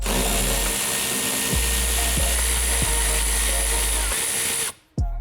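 Power tool driving out bolts on a Chevrolet Corvette front bumper, a steady loud whirring drone with a few short sharp bursts, cutting off abruptly near the end.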